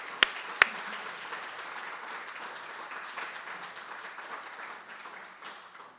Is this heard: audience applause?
yes